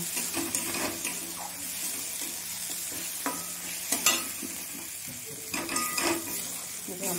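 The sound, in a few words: frying food in a pan until reddish-brown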